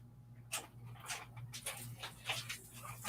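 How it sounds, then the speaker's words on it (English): Dogs inside a house, with a few brief whimpers and soft yelps scattered over a steady low electrical hum, fairly faint and with no talking. "It sounds like his dogs are in the house."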